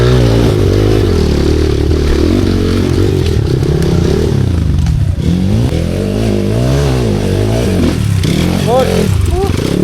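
A motorcycle engine labours loud and close as it climbs a rough, steep uphill road. The drone is continuous, its pitch rising and falling under load, with rattles and scrapes and a rider talking over it.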